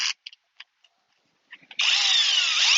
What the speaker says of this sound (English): I'm going to run a leg in here with the Seyvum drill.